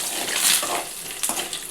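Dried red chillies dropped into hot oil for mango pulihora, a steady broadband sizzle and crackle with brief scraping bursts of stirring, close and continuous.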